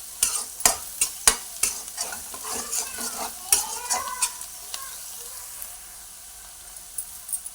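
Onions fry with a handful of cashews in a pan for Telangana bagara rice, close crisp sizzling with repeated sharp spatula clacks that thin out toward a quieter simmer, no speech.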